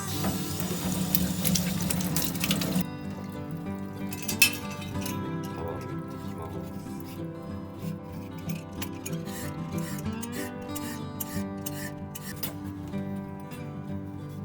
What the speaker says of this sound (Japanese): 簡単に水で洗っていきます